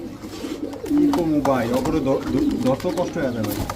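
Several pigeons of racer and fancy breeds coo in low, repeated rolling calls close by, while someone talks over them.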